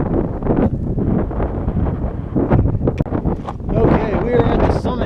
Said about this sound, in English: all of a sudden the wind just picked up big time. I'm sure the camera's picking up on it